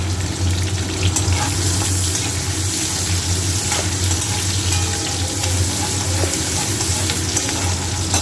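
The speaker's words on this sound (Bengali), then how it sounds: "পেঁয়াজগুলো ভেজে নেব" Onions fry in a pan for a banana flower dish, making a dense, loud, continuous sizzle with faint stirring taps and no voices.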